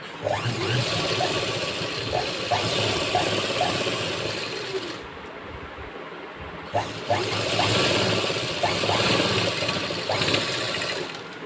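A sewing machine stitches a blouse, its rapid mechanical whirr running in two bursts with a brief pause between, close and fairly loud.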